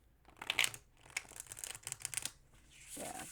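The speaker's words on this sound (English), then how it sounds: "Nice slide overhand shuffle." Slide overhand shuffle of a Verdance tarot deck, soft papery slides and flicks of cards close by, a few crisp bursts then lighter rustling, with no talking.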